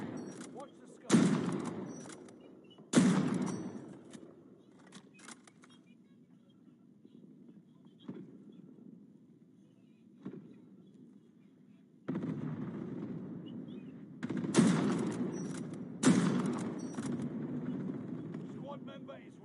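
Gunfire in the DayZ video game: a handful of sharp, loud blasts arrive in spaced pairs, each trailing into a rumbling tail, with a low, steady ambient drone between them.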